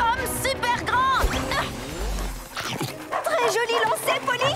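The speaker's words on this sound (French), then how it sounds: "les 2 chiens de sécurité du stade qui nous courent après" Two cartoon stadium security dogs yip and bark in quick, excited bursts while chasing, mixed with lively animated voices and music in a Polly Pocket episode.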